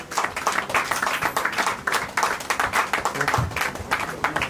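Congregation at a Christian wedding clapping and cheering, a lively burst of many hands with a rhythmic pulse and occasional shouts, fairly close and continuous.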